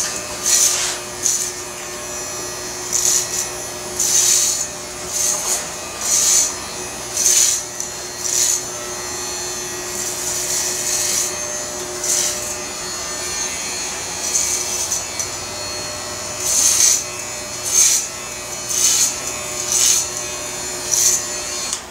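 An electric hair clipper cuts a short, spiky women's haircut, giving a steady close buzz with frequent brief louder surges as it passes through the hair. No one speaks.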